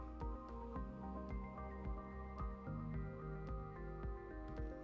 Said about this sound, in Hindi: हम दूसरी प्लास्टिक ट्यूब में थोड़ा सा उबला हुआ पानी डालेंगे।